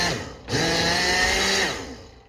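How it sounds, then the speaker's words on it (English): A blender whirs loudly for about a second as it blends a blueberry smoothie, spinning up sharply and then winding down, with no talk. "Here's our blender. Let's make a smoothie."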